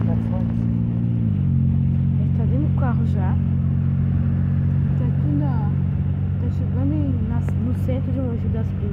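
Steady engine hum and road rumble from inside a moving car on the way out of Mogi das Cruzes, loud and constant, with a shift in engine pitch early on and people talking over it.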